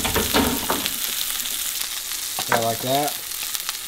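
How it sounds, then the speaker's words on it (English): Oryx steak sizzles hard in hot olive oil and butter in a pan, a loud, steady crackling hiss right up close, with someone speaking briefly over it. "I'm gonna throw our steak in, and then we're gonna throw a little butter on top of our steak and let that help cook it"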